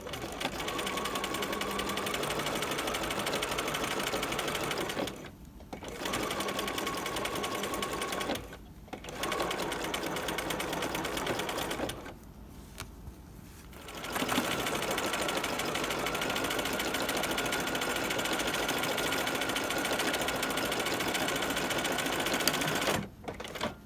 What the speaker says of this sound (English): we will come in and sew 1/8 of an inch past for a second row